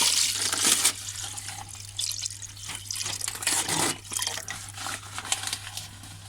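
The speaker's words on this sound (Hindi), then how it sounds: "1 लीटर हम इसमें पानी डाल देंगे।" Water splashes and runs steadily into a metal pot for chicken soup, a continuous close pour of about a litre and a half with a low hum underneath.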